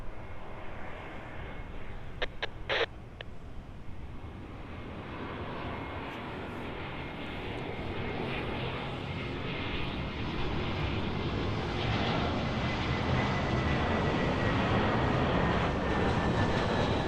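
An airliner landing at Los Angeles airport, a loud sustained jet engine roar that swells and stays heavy, broad and close for most of the span, with a few brief clicks early on.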